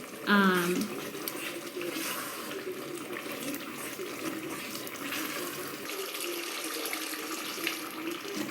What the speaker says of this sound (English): So we're gonna add hot water is always best.